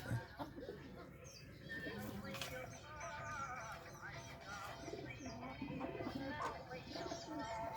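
Soft pigeon cooing comes through a noisy outdoor background, faint and somewhat distant, mixed with rustling and other scattered bird sounds, as pigeons eat rice near a fighting-rooster shed on a farm in the rainy season.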